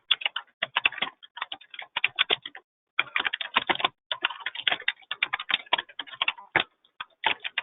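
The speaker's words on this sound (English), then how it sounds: "I believe we can hear you typing." Rapid typing on a computer keyboard, bursts of clicking keys with short pauses, fairly close and quiet.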